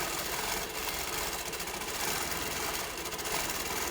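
A sewing machine runs continuously at speed during free motion quilting of pebble shapes, its needle giving a dense, even, rapid mechanical chatter close by with no talk.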